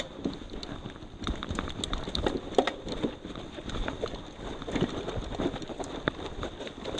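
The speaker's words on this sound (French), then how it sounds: "On est vraiment en train de rouler sur l'eau là. Le bruit que ça fait." A mountain bike rolls over a waterlogged wooden boardwalk on a trail near Ushuaia in Argentine Patagonia, with tyres knocking plank after plank in an uneven clattering rhythm over steady splashy noise.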